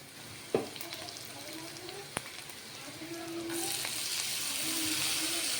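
Red lentils (masoor dal) are tipped into a pan of sizzling onions: a sharp knock, then a steady frying hiss that brightens and swells toward the end, with faint stirring scrapes underneath.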